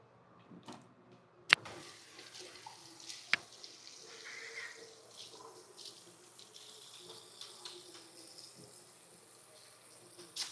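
Water runs from a bathroom tap into a sink, a faint steady wash with a few sharp knocks and clatters over it, heard close and alone without talk.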